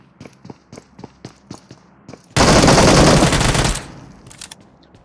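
Automatic gunfire in PUBG Mobile: a string of sharp single shots, then a loud sustained burst of rapid fire lasting over a second, followed by a few more scattered shots.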